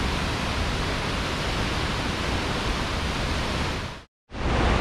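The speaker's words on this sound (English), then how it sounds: "So we just saw Nungnung Waterfall," Nungnung Waterfall in North Bali roars as a dense, steady rush of falling water heard up close and loud, filling the scene alone before a brief cut near the end.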